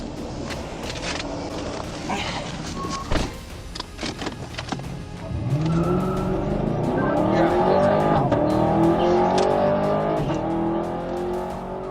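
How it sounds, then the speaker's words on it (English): A fleeing car is stopped by a police PIT maneuver: after engine revs and clunks, tires squeal and skid in long, loud rising and falling wails that continue for several seconds. "officers executed a well-timed pit maneuver, successfully immobilizing the vehicle and ending the pursuit"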